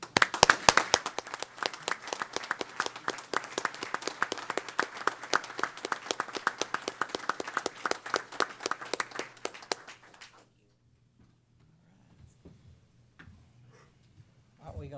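A roomful of people at a state transportation commission meeting applauding the governor, dense sustained clapping that carries on for about ten seconds before stopping abruptly, leaving faint room noise.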